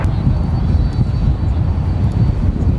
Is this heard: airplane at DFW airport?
yes